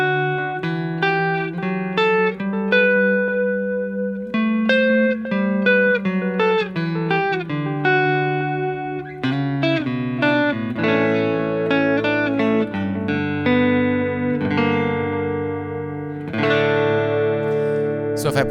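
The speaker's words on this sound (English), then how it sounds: "For the analog delay settings, these are going to be more for a warmer kind of delay tone." Electric guitar through a Walrus Audio ARP analog delay pedal set for a warm delay tone: clean picked notes and phrases ring out with soft repeating echoes, steady and alone.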